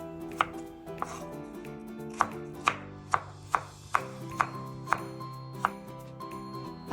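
A knife on a cutting board slices food into thin strips for brown-rice gimbap. About a dozen crisp, evenly spaced chops sound close and clear, with no talk.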